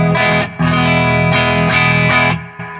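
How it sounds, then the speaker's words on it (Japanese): An electric guitar played with a clean tone and no effect pedal rings out in four strummed chords, each held briefly before the next, loud and close, with the last chord cut short. "普通にクリーンの音なんですけど"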